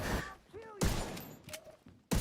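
Rifle gunfire in The Division 2 video game: sharp, loud bursts of shots, with a voice talking between and under the firing.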